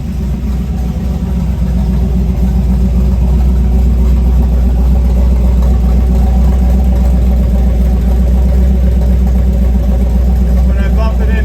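A freshly built 350 small-block V8 in a 1955 Chevy truck rumbles at a loud, steady, deep idle up close, running evenly throughout after the start.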